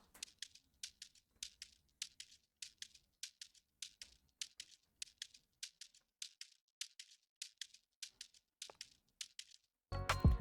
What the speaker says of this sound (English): Wait, I have a shaker right here.